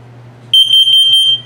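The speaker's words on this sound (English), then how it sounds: "This is a carbon monoxide LP gas detector." A carbon monoxide and LP gas detector in a 2022 Keystone Premier 30RI travel trailer gives a rapid burst of loud, piercing high beeps, about six in quick succession, close by after a low hum.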